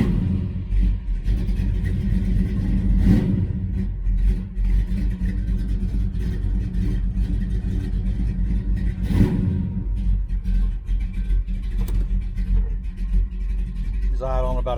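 A 1966 Dodge Charger engine fitted with a Holley 4150 carburetor rumbles loud and deep, running steadily throughout with a few swells, while people talk nearby.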